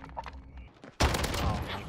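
Gunfire from a CR-56 AMAX rifle in Call of Duty: Modern Warfare, a quiet stretch of game sounds and a muffled voice, then a sudden loud burst of rapid shots.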